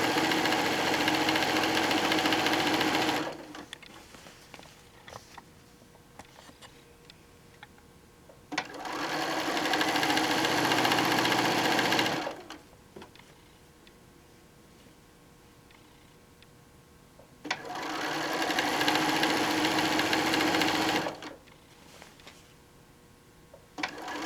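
A sewing machine sews across a quilt in three sustained, fairly loud runs of steady motor whir, separated by quiet pauses.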